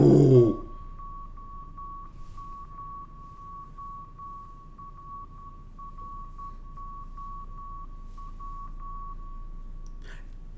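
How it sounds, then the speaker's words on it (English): A thin, high electronic tone beeps on and off in a fast, steady stream, Morse-like, over a faint low hum, after a brief thump at the start. "that was a different Morse code beat."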